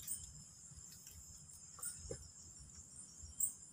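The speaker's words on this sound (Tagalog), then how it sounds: "Ang kuliglig." Crickets chirp at an abandoned factory in the Philippines in a steady, high-pitched drone, faint and continuous against a quiet night background.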